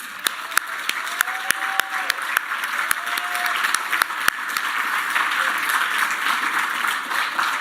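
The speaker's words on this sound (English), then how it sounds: "accept from all of us a rousing round of applause for being the real magicians." A rousing round of audience applause at an awards ceremony for household workers, broad sustained clapping building slightly in volume, with a few loud sharp claps up close and faint voices in the crowd.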